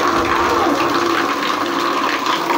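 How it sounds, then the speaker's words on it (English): A bathroom water tap runs at full flow, a loud, steady gushing rush of water into a basin that continues without a break, with no talking. "Let's open our water. We have a tap here."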